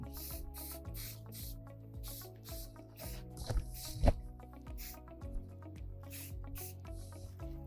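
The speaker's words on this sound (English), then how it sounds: "Spray from a distance if you got to touch it up." Short bursts of spray paint hiss in repeated puffs over Lego pieces, fairly close, with a steady bed of soft background music underneath and a few louder knocks midway.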